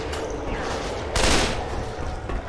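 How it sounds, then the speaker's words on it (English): Assault rifle fire in the Left 4 Dead 2 video game, short bursts of close shots over constant game noise, with one louder burst near the middle. "I'm grabbing an assault rifle"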